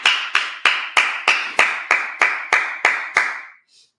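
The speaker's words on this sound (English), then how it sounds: "Clap it up again." A congregation at a Sabbath service claps in unison, about eleven sharp, evenly spaced claps at a steady rhythm, loud and close, ending abruptly with no talking.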